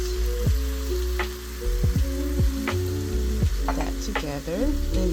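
Tomato paste and chipotle chiles in adobo stirred into a hot pot, with a steady sizzle and frying hiss broken by scraping stir strokes, heard up close.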